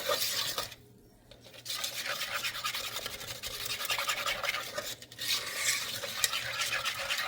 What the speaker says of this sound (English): we're just going to whisk it and make sure it's well incorporated.